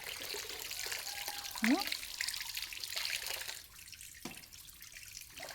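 Running water from a tap during hand-washing of clothes, a steady close splashing and trickling flow with faint clatter, briefly under a voice.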